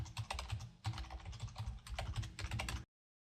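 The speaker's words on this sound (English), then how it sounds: "you want to type in http:// the name of your website" Rapid typing on a computer keyboard, a dense run of close key clicks in short bursts with a brief pause, stopping abruptly before the end.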